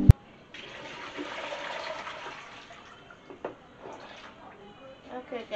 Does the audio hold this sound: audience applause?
no